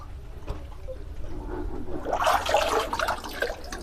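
Water drains out of a fish tank with a gurgling, rushing flow that swells up in the second half, nearby and moderately loud, with no one speaking.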